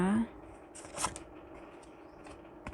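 Romance Angels oracle cards are shuffled in a quick, close riffle that ends abruptly, followed by soft handling noises while someone talks quietly.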